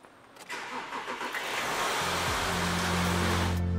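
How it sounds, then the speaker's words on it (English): A car's engine cranks and starts right after an 8.3-liter oil fill in a service bay, a rising whir that settles into a steady, loud idle hum. "then we'll start the car"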